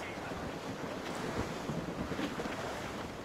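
Sailing ship wind and waves in the video game Assassin's Creed Rogue: a steady broadband rush of gusting wind and breaking surf against the hull, continuous and fairly loud with no voices.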